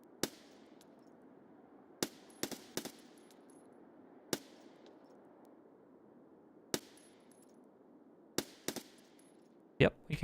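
Gunfire in Escape From Tarkov as a sniper scav is taken down: sharp, loud single shots and short bursts spaced irregularly over a steady ambient rumble, with a heavier cluster near the end.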